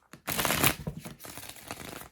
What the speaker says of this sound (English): we're going to give it another little shuffle here